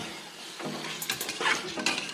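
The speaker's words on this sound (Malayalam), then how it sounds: "നേരത്തെ കഴുകി വെച്ച് ചിക്കൻ ഇട്ടതിന് ശേഷം നന്നായിട്ട് ഇളക്കി ചിക്കനിലെല്ലാം ഒന്ന് പിടിപ്പിക്കാം." Chicken pieces for Arabian kabsa stirred in a hot pan, scraping and clinking of a utensil against metal over a steady sizzle, with several brighter scrapes in the second half.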